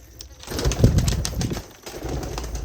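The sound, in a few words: pigeons cooing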